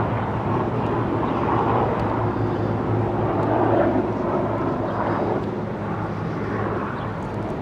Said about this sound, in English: Helicopter in the distance.